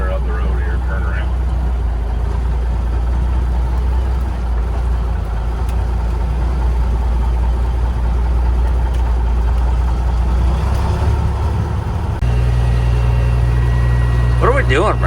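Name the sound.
Peterbilt 359 truck engine idling, new PDI turbo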